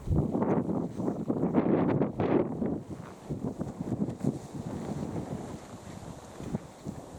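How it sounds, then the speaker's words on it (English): Wind buffets the microphone on bleak, open moorland at dawn, loud rumbling gusts in the first few seconds easing into a lower, steadier blustery roar. "Very bleak and windy up here"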